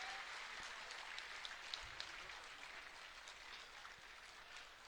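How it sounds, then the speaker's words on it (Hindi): A crowd at a political rally in Bettiah, Bihar, applauds to welcome leaders, a faint, distant wash of many hands clapping with a few sharper claps standing out, steady across the whole span. "जोरदार तालियों से स्वागत करें"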